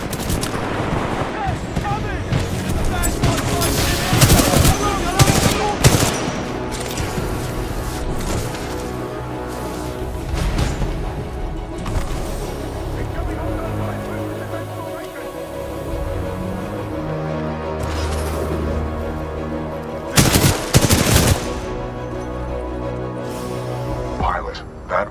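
Supporting gunfire and explosions in the video game Titanfall 2, with loud bursts of rapid automatic fire and heavy blasts recurring over a rumbling battle bed, peaking in a sharp cluster near the end.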